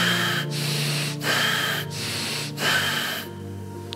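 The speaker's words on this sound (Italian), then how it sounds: "Deep and fast, rasping breath, deep and fast." Deep, fast, rasping breaths come from a meditation breathing exercise, close and loud, in a steady cycle of about four heavy breaths with short pauses between them and no speech.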